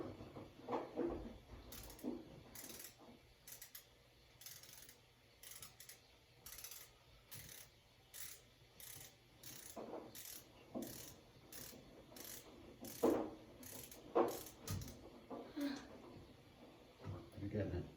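A ratchet tool tightens a light switch screw during a switch replacement, giving a series of faint, evenly spaced clicking ratchet strokes under quiet talk.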